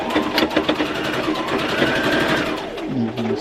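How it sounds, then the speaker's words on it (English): Sewing machine stitching the crotch seam of a red zip-front jumpsuit, a steady rapid mechanical whir of needle strokes running close and loud throughout, then slowing and winding down near the end. "So we're going to place that on our sewing machine"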